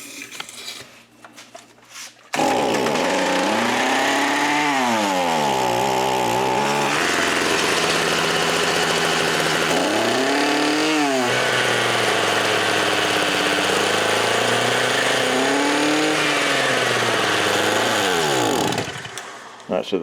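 A Redmax two-stroke weedeater engine, one of two free units with a throttle stuck open, starts up loud and close and runs with a raspy buzz, its pitch sweeping up and down in several revving surges before cutting off.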